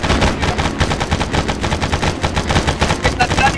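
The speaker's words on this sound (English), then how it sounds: "Someone shot him!" Rapid, continuous gunfire from the S.T.A.L.K.E.R. video game, dense overlapping shots and bursts packed close together, loud and sustained across the whole stretch.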